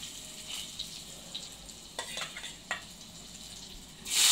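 Curry leaves and onions fry in a pan for a green pea curry, giving a soft, faint sizzle with a few light stirring taps before a louder burst of hiss at the end.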